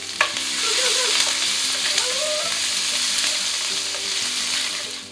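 Chopped chilies and ginger fry in a hot pan for a samosa filling, making a loud, continuous sizzle with stirring scrapes running through it and no voices.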